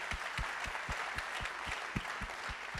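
Moderate applause from an audience at a corporate awards night for finance executives, with a few distinct, rhythmic claps standing out over a softer, steady wash of clapping.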